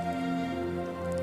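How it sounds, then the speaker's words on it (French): Rain mixed with sleet falls in a brief steady patter over a low constant hum, faint and even, with no voices. "c'est de la pluie et neige mêlée"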